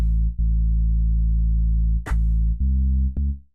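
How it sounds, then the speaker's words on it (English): A very short looped sample in Ableton repeats so fast it becomes a sustained low buzzing bass tone, held in several steady notes broken by brief clicks and pitch changes, loud and synthetic with no voices. "because it's looped, when it's incredibly short, you basically get these that could be a bass line."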